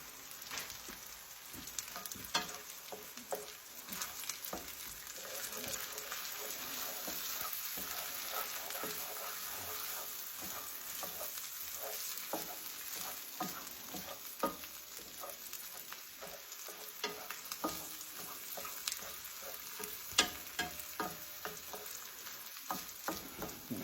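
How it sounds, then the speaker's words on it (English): Cream poured in and stirred with tender corn in a hot pan, giving a steady sizzle under scraping spoon strokes and soft clinks, close and continuous, with no voices. "It's time to add our cream."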